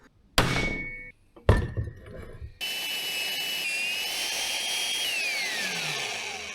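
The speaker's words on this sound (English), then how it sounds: "So I'm just going to drill a clearance hole in the bottom of that so it clears that rivet." A magnetic drill bores a clearance hole for a rivet through a truck chassis: two sharp thunks come first, then a loud, steady high-pitched drilling whine runs to the end with a slowly shifting pitch.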